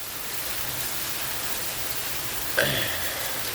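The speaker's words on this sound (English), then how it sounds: "Man, I love the rain." Heavy rain pours down outdoors in a steady, dense hiss that fills the whole stretch, joined near the end by a brief nearby clatter.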